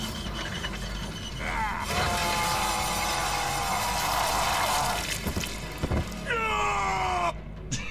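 A character screaming during a Mori kill in Dead by Daylight, a strained, wavering scream held for several seconds amid grinding, wet mechanical effects, followed by a second rising cry near the end.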